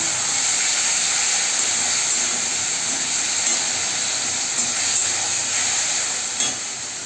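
Spices sizzling in a pan of onions fried until red, with garlic, ginger and chilli paste, a steady hissing crackle that holds at an even level throughout.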